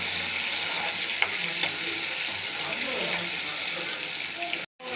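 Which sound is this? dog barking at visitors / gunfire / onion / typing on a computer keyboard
onion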